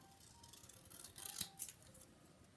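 Small snips cutting a paper stamp sentiment, a few quiet close crisp snipping sounds near the middle, otherwise near silence.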